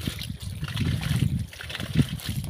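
Water gushing out of a pipe after the clog has been cleared, a close, churning splash and gurgle with low bubbling surges that rise and fall across a couple of seconds.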